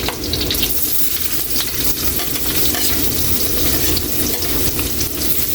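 Ginger sautéing in hot oil with pork in a Filipino home kitchen for paksiw na bangus, a loud continuous sizzle with stirring and scraping that stays steady throughout.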